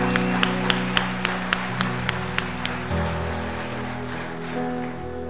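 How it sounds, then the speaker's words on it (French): A congregation at a French church congress service claps in a scattered, sparse way, the separate claps spaced out and fairly soft. Sustained organ or keyboard chords sit underneath throughout, louder than the clapping. "J'aimerais qu'on applaudisse."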